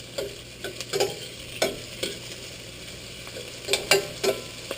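Garlic and onion fry in a pan for Filipino ground beef giniling, with a faint steady sizzle under intermittent scraping stirs of a spoon against the pan.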